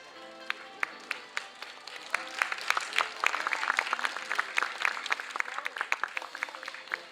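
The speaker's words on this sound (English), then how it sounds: "A round of applause for our secondary finalists" An audience at a Macao English poetry writing and recital contest gives the secondary-category finalists sustained applause, with many sharp claps building to a fuller peak in the middle and then thinning toward the end.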